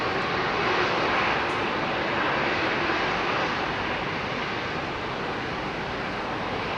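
A Boeing 777 with General Electric engines at London Heathrow, a broad, steady jet roar that swells slightly then eases, heard from a distance and continuous throughout.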